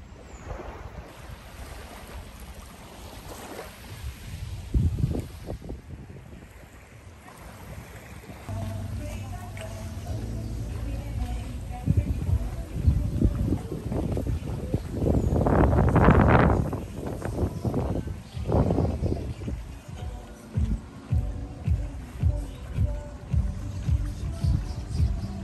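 Waves and wind at Minitas beach in Casa De Campo, Dominican Republic, give a rushing wash of surf and gusts that swells and recedes, with people talking faintly at times.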